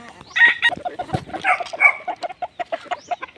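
Roosters in a backyard coop cluck and call in short bursts at feeding time, mixed with quick pecking clicks. The birds are close and busy.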